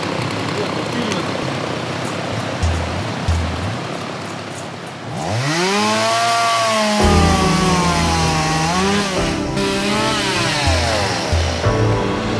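A loud chainsaw roars steadily, its engine pitch climbing and dipping as it revs and bites into wood, with a constant mechanical drone throughout.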